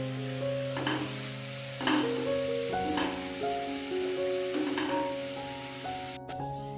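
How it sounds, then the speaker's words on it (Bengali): A pan of vegetables with tomato, cabbage, salt and a little sugar is stirred, giving soft scraping and sizzling strokes at intervals over a steady tonal background. "সব কিছুকে ভালোভাবে মিশিয়ে নেব।"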